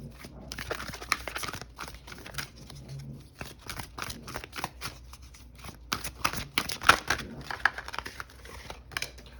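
Oracle cards are shuffled by hand in a dense run of papery riffles and soft slaps, with quick bursts and brief pauses, close and clear, with no talking.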